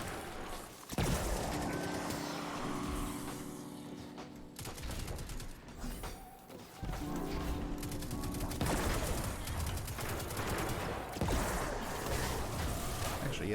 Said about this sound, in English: Hand cannons are loud.